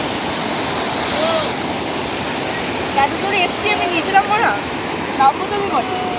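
A strong river current rushes with a steady, loud roar of churning water, and faint voices come through over the flow.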